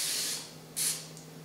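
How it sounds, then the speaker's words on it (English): Cooking spray hisses from an aerosol can onto the inside of a springform pan lined with paper, in a steady burst, a pause, then a second short burst and a brief tap, close and fairly quiet. "I'm going to go ahead and just spray"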